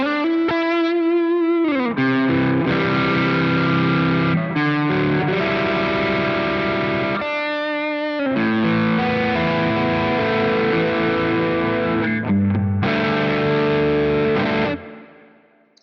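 Schecter PT electric guitar on its P90 neck pickup through a Quad Cortex at a mid-gain setting, strummed chords and riffs with a thick, pushed low end, sustained and loud with brief breaks, and no speech.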